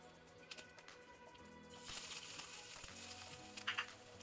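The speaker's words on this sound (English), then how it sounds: "Once the channa dal gets roasted and mustard seeds flutter, we'll add a little bit of ginger slices or pieces to it." Chana dal and mustard seeds roasting in hot oil, a faint crackle that swells into a brighter, denser sizzle partway through, with a few small pops near the end.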